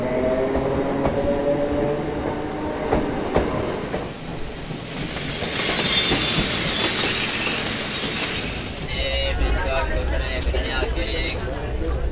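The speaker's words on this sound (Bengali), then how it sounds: "আমার যাত্রা শুরু হয়েছে হাওড়া স্টেশন থেকে, ট্রেনে পৌঁছব ঝাড়গ্রাম" A train travels from Howrah station toward Jhargram, with a steady rumble, clickety-clack of the wheels and a brief squeal, heard from inside the carriage with a voice talking over it.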